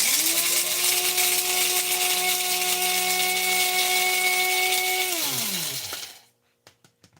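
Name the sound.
grinding coffee beans in a grinder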